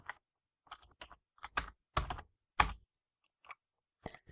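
Someone types on a computer keyboard while building a menu in Visual Basic 2010 Express: sparse, close, crisp key clicks in small irregular bursts separated by silence.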